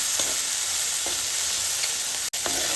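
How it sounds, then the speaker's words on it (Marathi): Fresh green peas roast and get stirred in a pan, a soft continuous sizzle with a few faint scraping strokes of the spoon and one sharp click near the end. "आपले मटार एकदम व्यवस्थित भाजून झाले।"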